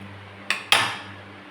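Two quick metallic scrapes of a spoon against a cooking pot while stirring salted soybean khichdi, a short tap followed by a louder longer scrape, over a steady low hum.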